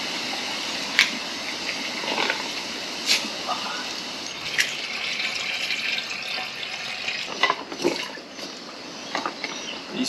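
Water runs into plastic water storage containers of 20, 4 and 11 litres, filled as spare and daily supply for a vehicle-based camping setup. The pouring is a steady splashing wash, broken by a few sharper knocks and clatters of the plastic.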